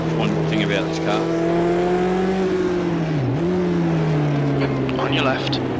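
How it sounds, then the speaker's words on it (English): Race car engine on a Nürburgring Nordschleife lap, a loud steady drone with pitch sweeps as it shifts and revs, continuous throughout with faint voices underneath. "Sounds incredible. That's one thing about this car."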